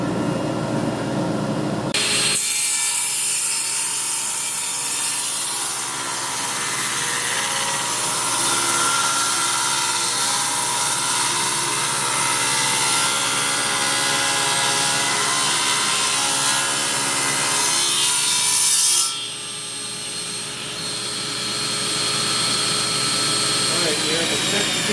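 A saw rips cherry wood into thin scale lumber pieces, making a loud, continuous, harsh whining cut that runs steadily, then eases briefly near the end before resuming.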